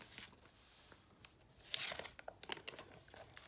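Paper crinkling and tearing up close as a sticker page is peeled back and a small paper packet is opened, soft rustles building to a few sharper crisp rips, no speech.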